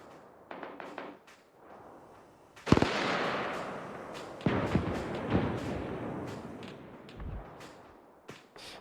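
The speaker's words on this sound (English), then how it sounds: "Let's fire some rounds up there." Gunfire and explosions in the military video game ARMA 3, with a burst of sharp cracks and booming blasts echoing and rumbling in a dense, loud barrage, plus scattered distant pops.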